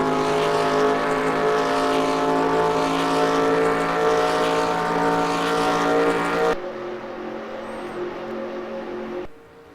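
Race cars in a stock car racing video game roar loudly as they power slide out of turn 2, a dense steady engine drone that drops abruptly to a thinner, quieter whine near the end.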